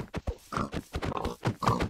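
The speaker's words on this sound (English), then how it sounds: "Hi, pig." A Minecraft pig oinks in a quick string of short, close grunts, several snorts packed into two seconds.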